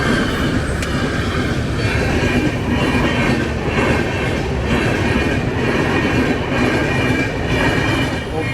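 Train rolling past, a dense continuous rumble with rhythmic wheel clatter and faint squeal, loud and close for the whole stretch with no voices.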